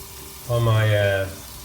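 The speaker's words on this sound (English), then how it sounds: "so my pot is getting warm, so I put a little bit butter. Then ginger and onion." A short sizzle rises as ginger and onion go into warm butter in a pot for asparagus soup, a loud burst lasting under a second before settling.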